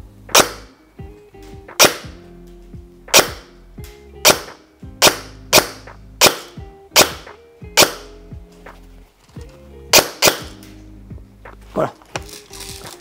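Twelve sharp shots from a CZ Scorpion EVO 3 A1 airsoft gun loaded with 0.20 g BBs, fired singly at a steady rhythm, close and loud, with a mechanical clack after each and a faint low hum beneath.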